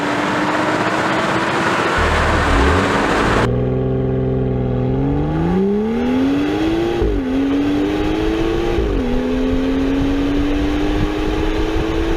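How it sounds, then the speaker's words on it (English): A 2016 BMW X4 M40i pulls away from a launch-control start with the engine droning hard and climbing in pitch. Several automatic upshifts each drop the note before it rises again, and steady road and wind noise sits underneath. "we're going to press the brake all the way down, gas all the way down. It says launch control, and we let go. And we'll let the car shift automatically."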